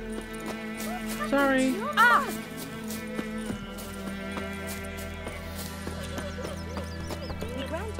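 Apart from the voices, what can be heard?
horse galloping and neighing in the video game The Witcher 3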